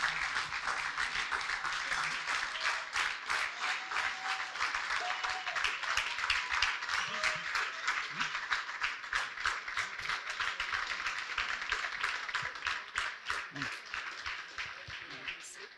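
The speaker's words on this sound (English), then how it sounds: "Please give her a round of applause and give her a standing ovation." A long round of applause from a bootcamp audience for a keynote speaker, many hands clapping in a dense, rapid patter that holds steady throughout and thins slightly at the end, with faint voices mixed in.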